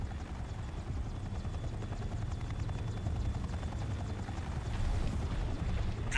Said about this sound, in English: The chopper has exited the combat zone.